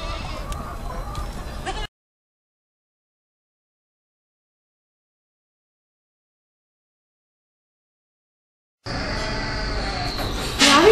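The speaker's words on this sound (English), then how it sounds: "Here are the goats." Farm goats bleat close by in two bursts separated by a long silent gap, the second burst ending louder, with no one talking.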